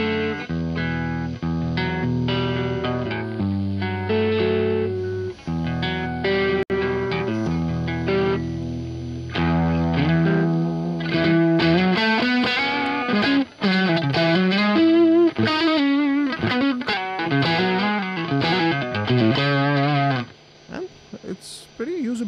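Electric guitar played through a tube amp into a Two Notes Genome cab impulse response, with a loud distorted tone: sustained chords at first, then busier riffs and bends, stopping abruptly near the end.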